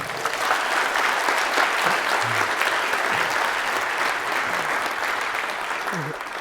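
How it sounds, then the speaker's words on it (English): A round of applause from an audience honoring a guest named Cam, steady dense clapping sustained throughout with faint voices and cheers underneath. "Give him a round of applause."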